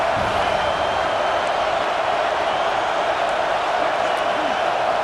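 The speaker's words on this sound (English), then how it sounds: "Here comes this home crowd as the defense tries to get off the field on 3rd down" A home crowd roars at a college football game between Michigan and Ohio State, a dense, loud, sustained wash of stadium noise on third down, with a commentator talking over it.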